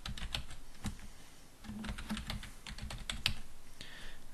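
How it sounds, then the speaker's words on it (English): Clicky keystrokes on a computer keyboard while a text tool is used in Photoshop Elements 6, an irregular run of close, crisp taps with brief pauses, heard alone without voices. "And now we're just going to start typing."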